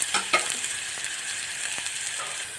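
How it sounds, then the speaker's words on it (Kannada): Green chillies fry in a pan with a steady close hiss, punctuated by a couple of quick stirring scrapes at the start and faint clicks. "ಹಸಿಮೆಣ್ಸಿಕಾಯಿ ಸ್ವಲ್ಪ ಹಸಿ ವಾಸನೆ ಹೋಗೋರಿಗೆ ಫ್ರೈ ಮಾಡಿ"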